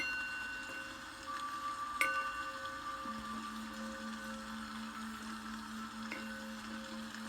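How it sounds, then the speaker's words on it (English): A singing bowl rings with sustained pure tones that hold steadily, one lower tone entering partway and humming on alongside fainter higher overtones, with a light strike partway through, calm and moderately quiet. "Sing my bowl, clear and cleanse the room."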